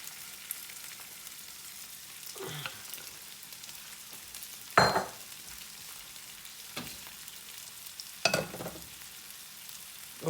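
An Italian-style omelette with portobello mushrooms fries in a pan, giving a low, steady sizzle punctuated by three brief louder bursts of spatula scraping and crackle, with no talking.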